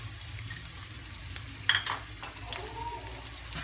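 Chopped onion, about a cup, frying in hot oil for a Bangla beef vhuri with potato, a steady soft sizzle with a brief clatter partway through and no talking.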